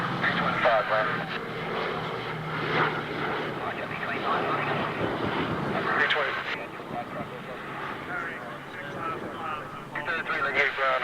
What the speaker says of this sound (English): you can hear and you can see this wonderful B-17 Sally B